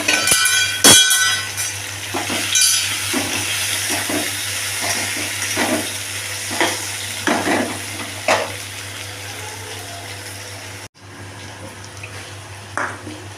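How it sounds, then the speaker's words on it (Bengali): Raw banana and potato pieces fry with cumin in oil, a continuous close sizzle with repeated scraping and stirring strokes, a steady low hum beneath, and a sudden drop in level near the end. "জিরে ফোড়ন দিয়ে কলা আলুটা ছেড়ে দেবো।"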